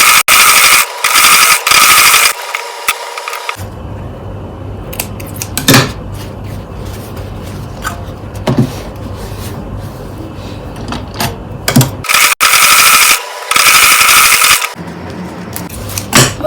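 A sewing machine topstitches a seam on Ankara fabric for a jumpsuit, running in loud, close bursts with a quieter stretch between them.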